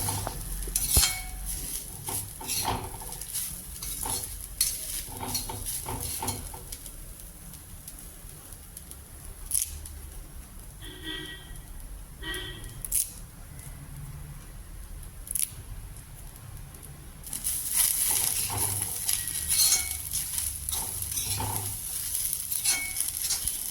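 Shallots and curry leaves sizzle in a pan for elephant yam theeyal, an ongoing crackling hiss broken by utensil scrapes and clinks, close and moderately loud with no speech.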